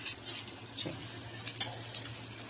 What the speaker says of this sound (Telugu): ఇందులో కొంచెం వాటర్ పోసి కూడా ఇందులో వేసేసుకోండి